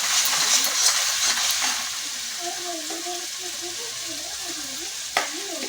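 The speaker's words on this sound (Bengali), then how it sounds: "দিয়ে দিচ্ছি আদা রসুন, দিয়ে সুন্দর করে কষিয়ে নেব" Ginger garlic paste sizzles and hisses in hot oil for biryani, a steady close frying crackle that is loud at first and settles a little, with a sharp scrape of stirring near the end.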